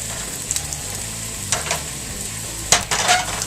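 Veggie burger patties dropped into a hot, oiled pan, giving a steady close sizzle and frying hiss with a few sharp crackling bursts as each patty lands.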